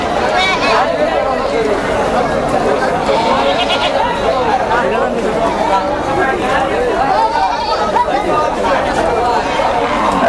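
Goats bleat throughout a busy wholesale goat market in Manikganj, loud and close, over constant crowd chatter and people talking.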